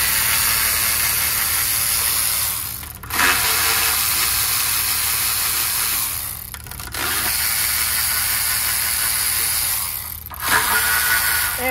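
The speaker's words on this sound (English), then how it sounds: "Very important that we torque this stuff down." A ratchet wrench clicks in quick bursts as it tightens bolts to a torque spec of 10 newton meters while reaching spark plugs on a Ford Taurus engine, close and loud, with short pauses between runs.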